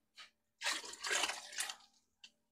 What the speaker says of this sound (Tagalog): Lalagyan ko kaunting tubig